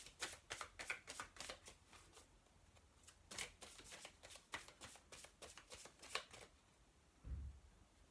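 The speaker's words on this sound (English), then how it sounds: "I'm going to shuffle and just see what happens." Tarot cards are riffled and shuffled repeatedly in quick bursts of crisp flicking, close and fairly quiet, ending with a soft thump.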